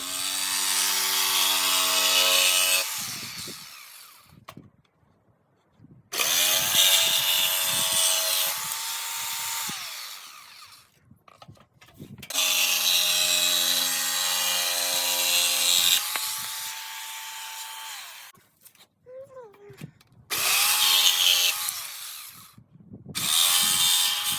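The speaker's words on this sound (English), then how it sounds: "it's time to use the jigsaw to cut." A jigsaw cuts wood along 45-degree angle lines, a loud buzzing, rasping whine in several long bursts separated by silent pauses.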